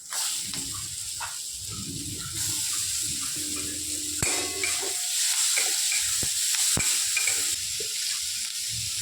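Capsicum seasoned with turmeric sizzles steadily in a hot pan in a home kitchen, with repeated scraping stirs and occasional clinks of a spatula throughout, close and fairly loud with no talking.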